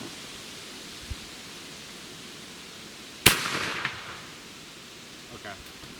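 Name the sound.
gunshot from an 1853 rifle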